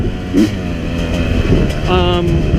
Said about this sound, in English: immediately you can tell that the 250 is a faster revving bike. It revs quicker.